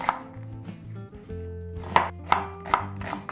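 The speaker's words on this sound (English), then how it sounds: "So first of all, we're gonna slice up the onions" A knife slicing a medium onion for Malaysian nasi goreng, with a few light strokes and then four crisp evenly spaced chops on a board, close and clear with no talking.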